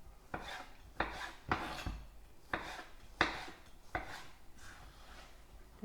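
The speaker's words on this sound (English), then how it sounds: "just chop them up roughly" Knife roughly chopping vegetables for chilli beef wraps on a board, seven or eight crisp, fairly evenly spaced thuds close by, with no talk.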